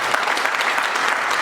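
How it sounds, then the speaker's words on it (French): Wedding guests applauding the chief at a wedding ceremony, loud sustained clapping from a crowd, continuous and dense, close to the microphone with no talk over it. "Applaudissez pour le chef."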